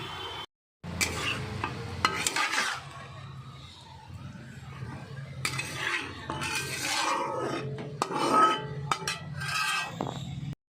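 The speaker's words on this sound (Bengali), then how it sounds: "আমি যে বাসন টাসনগুলো সকালের ছিল সেগুলোকে সব মেজে টেজে নিচ্ছি" Dishes are scrubbed and rinsed in a home kitchen sink while cooking goes on nearby, with intermittent clinks of pots and cutlery, rubbing and splashing water, moderately close.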